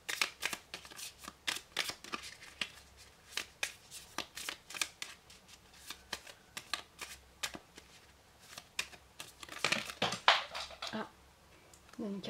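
Cards shuffled over and over for a three-card Lenormand reading, a steady run of close riffling snaps and flicks lasting throughout, with no voice over them.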